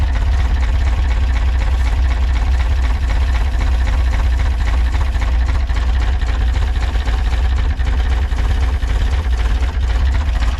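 A 1966 VW Split Bus engine with Weber IDF 44 carburetors and a leaking intake manifold idles steadily, a loud, close, continuous low rumble with no change in pace and no talking.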